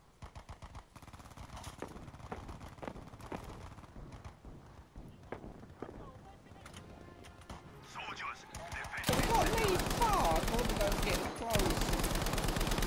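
Battlefield V gunfire: bursts of rapid automatic shots and scattered single cracks over a busy battlefield, with players talking across them and a louder, denser stretch of firing near the end.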